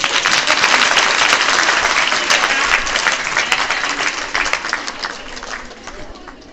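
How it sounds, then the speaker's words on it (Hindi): Loud, dense applause from a large crowd, sustained throughout and gradually thinning toward the end. "जोरदार तालियों से"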